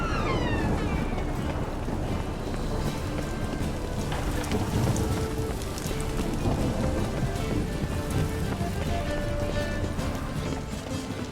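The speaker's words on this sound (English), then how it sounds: "Rain again." Heavy rain pours in The Witcher 3: Wild Hunt, a dense continuous hiss with thunder rumbling beneath it, steady and loud throughout with no voices.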